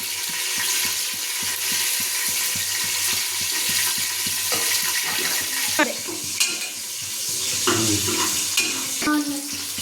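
Dry curry leaves dropped into hot oil for a jackfruit sambar, giving a steady close crackling sizzle with stirring scrapes and a few sharper pan clinks near the end.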